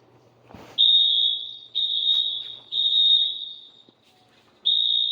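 Home security and fire alarm system under test, sounding a loud piercing electronic tone in long repeated blasts with short gaps between them, heard close with no talk.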